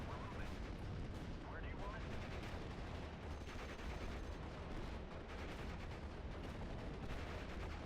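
Dense, continuous machine gun and rifle fire with heavy artillery rumble fills a World War II battle in the strategy game Steel Division, during a hedgerow fight in Normandy. The gunfire is loud, close and sustained without a break.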